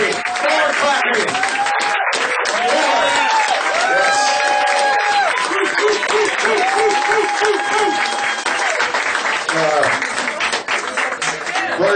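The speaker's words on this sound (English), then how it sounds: "More clapping. More clapping." A roast audience breaks into sustained, loud applause and cheering for the guest of honor, dense clapping with whoops and voices rising over it throughout.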